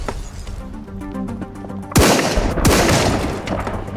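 Rapid bursts of gunfire at zombies in the video game Secrets of the Witch House, sharp loud shots over a steady electronic music backdrop, growing denser and louder in the second half.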